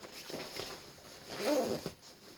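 A zipper on a snowsuit is handled up close, giving a couple of soft, quiet rasping pulls over a faint background.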